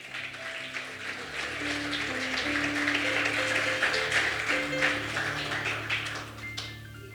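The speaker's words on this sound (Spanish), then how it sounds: "Dese un aplauso a usted mismo." An audience applauds steadily with a dense patter of clapping over soft background music, fading near the end.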